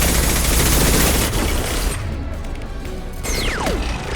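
Turret gunfire in Mass Effect 2 Legendary Edition rattles as a loud, dense burst of shots through the first second or so, then eases into mechanical whirs and a rising whine while the shooting fades.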